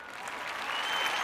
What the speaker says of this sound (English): welcome aboard with the applause